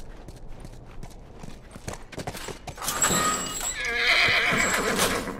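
A horse in The Last of Us neighs and whinnies loudly, with clip-clopping hooves beneath it. The neighing builds in the second half and rings out close and strong over a quieter stretch of hoofbeats.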